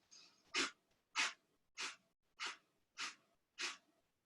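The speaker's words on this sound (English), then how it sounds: "Forceful exhalations out through the nose for about 20 pumps." Six sharp, forceful nasal exhalations from a yoga breathing exercise in a steady rhythm, roughly every half second, close and loud with quiet pauses between.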